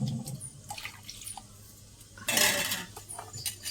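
A spoon and a ladle clink and scrape in a pot as milk is beaten into curd to make homemade yogurt, with light metallic taps, a louder burst of stirring midway and a few drips.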